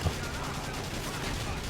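Mortar fire in the Battalion Wars video game, a dense burst of gunfire-like blasts that fills the short moment, loud and close.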